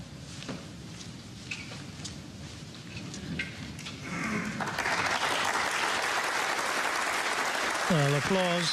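Audience applause at a Neil Robertson v Anthony McGill English Open snooker quarter-final, building from scattered claps under a commentator's voice into steady, fairly loud clapping that continues to the end.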